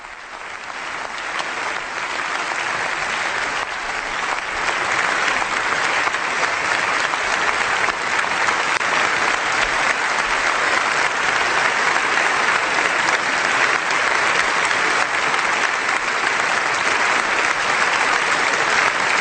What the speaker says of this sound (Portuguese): ele é aplaudido com o parlamento de pé